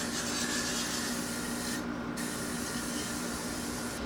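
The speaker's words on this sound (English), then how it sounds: "spray the whole thing with a lot of hairspray just to keep everything in place" Aerosol hairspray hisses in a long continuous blast over a styled short bob drag wig, close and steady, with a brief pause midway before the spraying resumes.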